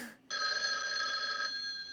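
A telephone in the film Clue gives one bright, sustained electric ring after a brief moment of quiet.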